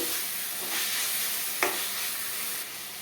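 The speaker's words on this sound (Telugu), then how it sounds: "ఒకసారి కర్రీ మొత్తం కూడాను బాగా కలుపుకోండి" Dry fish curry with chopped tomatoes is stirred in a sizzling pan, a steady frying hiss with scraping strokes and one sharp clink partway through, close and without talk.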